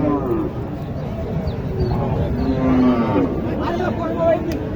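A cow moos low and drawn out amid the busy murmur of a livestock market for thin dairy cattle, with people talking throughout.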